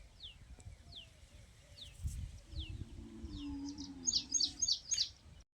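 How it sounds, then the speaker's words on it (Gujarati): A sparrow near its nest gives a series of bright chirps and tweets, several repeated calls getting louder toward the end, over low background rumble and faint household noise. "આયરી ચકલી"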